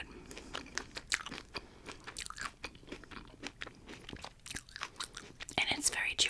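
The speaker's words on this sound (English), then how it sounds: "And it's very chewy because of the coconut." Ambrosia salad with coconut being chewed up close, with moist crunches and smacking bites repeating steadily throughout, and soft whispered speech drifting in and out beneath the eating sounds.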